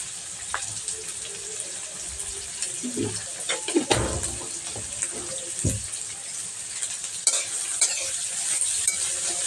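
Onion sprinkled with salt frying in a pan in a home kitchen while being stirred, a soft continuous sizzle broken by scraping stirring strokes and clinks.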